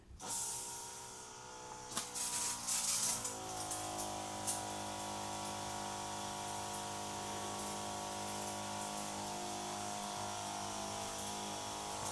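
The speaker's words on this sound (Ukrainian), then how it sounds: "Починаємо оприскувати ґрунт у теплиці." A motorised sprayer treating greenhouse soil hums with a steady mechanical whine after a few brief spray hisses and clunks at the start, close and even throughout.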